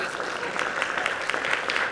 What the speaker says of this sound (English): I feel like that needs an applause right there